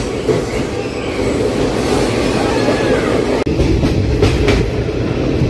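A train climbs through hilly country with tunnels on the Rajahmundry to Araku route, giving a loud, steady rumble of wheels and carriages with faint squeals, and a brief dip in sound partway through.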